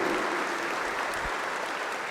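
A church congregation applauds during a priest's homily, a dense, steady wash of clapping that holds evenly from start to finish with no voices on top.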